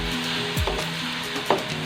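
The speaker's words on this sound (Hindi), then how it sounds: "अब हम इसमें अदरक लहसुन का पेस्ट डालेंगे" Ginger garlic paste hitting hot oil with golden fried onions in a kadai, a close, steady sizzle with a couple of brief scraping stirs of the spoon.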